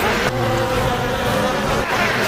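Bees buzz in a dense, continuous swarm with a loud, close drone, broken by a couple of brief dips, as part of a film about bloodthirsty bees escaping from an aquarium.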